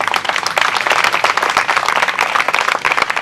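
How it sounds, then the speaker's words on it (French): Staff at an evening reception applauding themselves, a loud, dense and energetic round of clapping from a close room of people, steady and unbroken throughout. "Donc vous devez vous applaudir."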